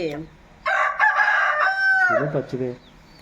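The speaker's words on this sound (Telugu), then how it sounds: "ఇది కోడి కొట్లాడుతుంది ఫ్రెండ్స్ పుంజు మీద ఇంకొక పుంజు మీద" A rooster fighting another rooster lets out a loud, close crow, stretched and wavering, followed by a few short clucking calls.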